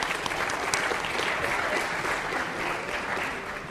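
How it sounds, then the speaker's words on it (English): Sustained applause from a lecture-hall audience at a game theory class, a dense steady wash of many hands clapping that holds at an even, fairly loud level throughout with no voices breaking through. "So let's give them a round of applause, all right?"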